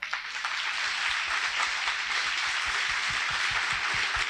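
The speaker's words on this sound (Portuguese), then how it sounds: "Aplauda bem forte ao Senhor." A church congregation applauds loudly and continuously, a dense roar of many hands clapping with a rhythmic beat emerging as it goes on.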